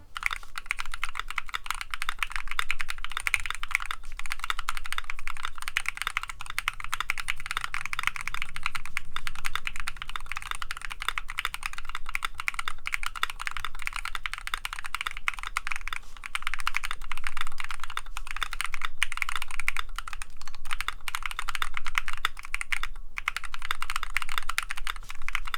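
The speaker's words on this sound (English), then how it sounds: "Here is a quick typing test." Rapid, steady typing on a mechanical keyboard fitted with CXA profile keycaps, a dense run of close clicks and clacks with brief pauses, no talking.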